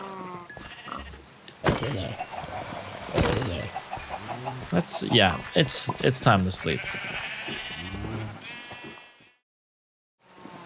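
Sheep in a blocky Minecraft-style game bleat several times, close and fairly loud, mixed with clucking chickens and other farm-animal calls, while a person talks over them before the sound cuts out.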